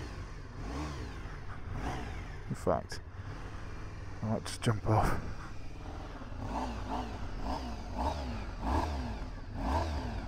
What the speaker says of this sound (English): V4 750 engine, which sounds like this.